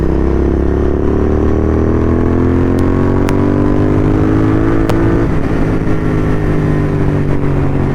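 A motorbike accelerates loudly during a short city ride, its engine note climbing steadily in pitch through the gears with one audible shift, close and continuous with no talking.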